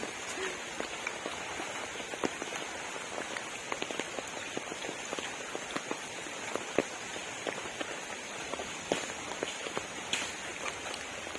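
Heavy rain falls at a flooded Thai homestead, a constant loud hiss of downpour with many sharp, close drops pattering on hard surfaces throughout, with no voices.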